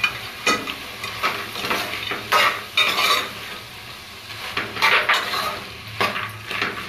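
Ridge gourd and chana dal sizzle in a pan while a spoon stirs them, bringing repeated scraping strokes and soft clinks over a steady frying hiss.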